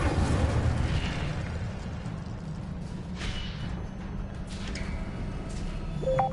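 A rumbling, roaring fire spell effect from a wizard game plays as a steady booming whoosh throughout, loud and dense with no talking.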